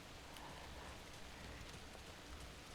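Steady rain falls in Alan Wake 2 as an even, close hiss of drops hitting surfaces, continuous throughout with no voices over it.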